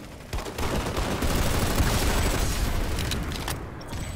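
Sniper gunfire in a video game, a dense continuous barrage of booming shots and explosive rumble, loud and sustained across the whole stretch.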